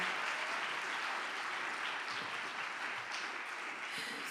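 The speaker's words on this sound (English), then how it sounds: "Can we give her another round of applause?" Audience at a Martin Luther King Jr. birthday celebration claps in sustained, even applause, heard faint and distant throughout.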